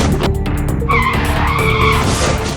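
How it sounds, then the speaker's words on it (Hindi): A speeding motorcycle skids loudly on a road, a continuous harsh scraping and squealing noise that dominates the whole moment with no voices. "तेज रफ्तार में बाइक फिसली और फिर सीधे बोलेरो के नीचे आ गई।"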